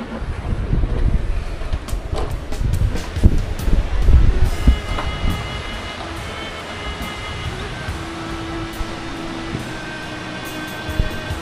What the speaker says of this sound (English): This cave is quite windy somehow.